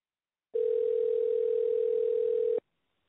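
A single steady telephone tone sounds continuously for about two seconds while a call is transferred to a 311 city service line, starting and stopping abruptly with no talk over it.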